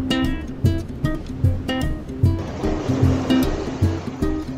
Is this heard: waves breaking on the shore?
yes